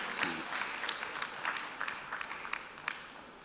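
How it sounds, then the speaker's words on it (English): An audience at a Rotary district conference award ceremony claps, a light, fairly thin round of applause with distinct individual claps standing out, at moderate distance for about three and a half seconds. "Yes, you can applaud."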